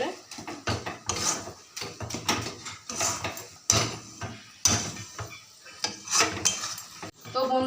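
A spatula is stirred and scraped through a sticky coconut laddu mixture with milk in a pan. The metallic scrapes and clinks repeat steadily and loud up close, in an uneven rhythm.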